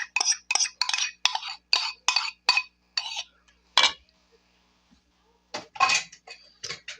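Broccoli salad being stirred with dressing in a bowl: a quick series of wet scraping, clinking strokes of a utensil against the bowl, a pause, then a few more close, crisp stirs.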